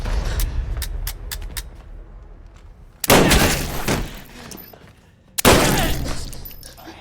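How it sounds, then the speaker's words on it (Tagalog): Gunfire in an action film about an elite sniper, heard as a few sharp cracks early on, then two loud, booming blasts with long ringing tails, each followed by a decaying echo. "agad na binaril si Caspian"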